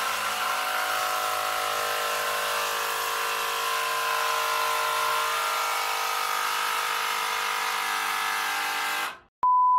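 A Stanley SBI201M2 18V brushless cordless impact driver drives a screw into a hard solid log, a steady loud whirring hammer that runs continuously for about nine seconds, then cuts off abruptly.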